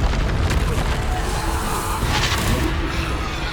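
Descendo spell impact in the game Hogwarts Legacy, a heavy booming blast with a rumbling low end that swells and lingers across the whole stretch amid ongoing combat effects.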